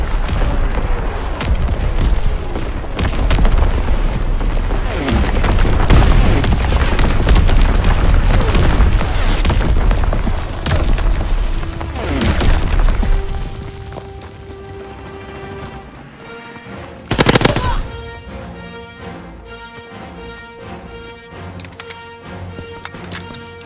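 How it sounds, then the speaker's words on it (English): Naval primary battery guns firing in Call of Duty: WWII, a long stretch of heavy, rolling booms and rumbling blasts layered densely together, giving way to quieter game tones and one sharp burst near the end. "Firing primary battery"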